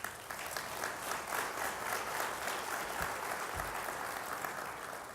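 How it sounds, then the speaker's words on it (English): Sustained applause fills a conference hall as the audience welcomes international representatives, a thick, even wash of many clapping hands that stays loud from start to finish, with no speech over it. "Let's give them a round of applause."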